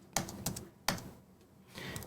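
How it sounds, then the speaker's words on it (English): Computer keyboard typing close to a microphone: a few sharp clacking keystrokes in an uneven burst, then a soft patter of quieter keys near the end, with no voices. "you are hearing my typing quite a bit"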